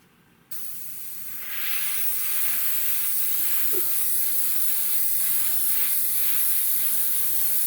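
Paint sprayed in a steady hiss that starts abruptly and continues unbroken, close by and moderately loud, with no talking.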